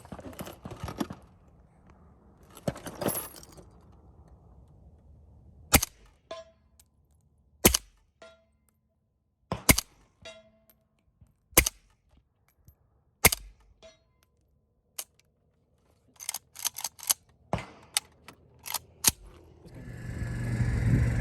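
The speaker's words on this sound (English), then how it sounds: "we just shot like 5 rounds of the subsonics with the KNS Piston on the Galil pistol" Several subsonic rounds go off from a Galil pistol fitted with a KNS piston at an outdoor range, sharp, loud cracks spaced a second or two apart, each followed by a metallic clang, with quiet stretches between.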